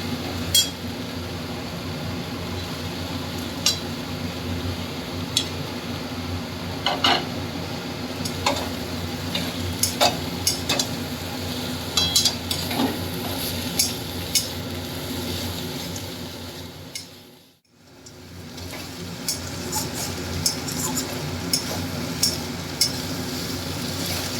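Eggplant stir-fried with mustard greens in a pan, a steady close sizzle with scattered clinks and scrapes of a spatula stirring, continuing throughout with a brief dip in the middle.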